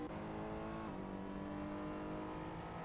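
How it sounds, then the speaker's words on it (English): DPi class race cars in a multiclass championship racing game, one overtaking another: a steady, loud engine roar with a brief shift in pitch, and no talk over it. "Yuri Lapo is being overtaken by another DPi class car."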